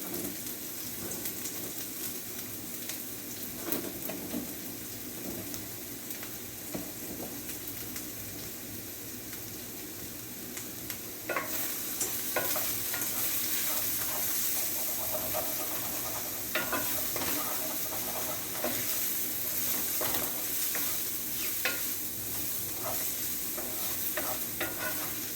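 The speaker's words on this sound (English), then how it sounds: "We go ahead and put our green onions in there." Green onions dropped into about three tablespoons of hot olive oil for mushroom fried quinoa, frying with a steady close sizzle and hiss that jumps louder partway through, while stirring scrapes and clicks in the pan.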